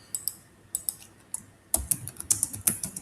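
Keys tapped on a computer keyboard while writing an invoice description in POS ERP software, a sparse scatter of clicks that turns into a quicker, denser run of keystrokes partway through, heard close and alone.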